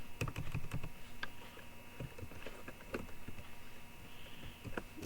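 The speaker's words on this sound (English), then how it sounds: "Now as it is, we can type the specification, the name of the computer" Typing on a computer keyboard, a quick cluster of clicky keystrokes at the start followed by scattered single taps and short bursts, close and fairly quiet, with no talking.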